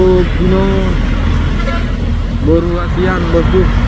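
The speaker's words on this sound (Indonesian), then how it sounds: "Satu nih truk Hino" Hino truck rolling along a road in traffic, a loud continuous low engine rumble and road roar with passing vehicle noise, while someone talks over it throughout.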